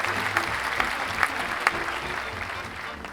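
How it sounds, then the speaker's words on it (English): An audience claps in a short burst of applause, a steady patter with a few sharper individual claps standing out. It is moderately loud, with no speech. "it's just going to have to be a pleasant applause."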